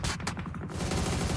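Rapid bursts of gunfire from the PUBG battle royale video game, a dense run of loud overlapping shots and automatic fire filling the whole stretch with no voices over it.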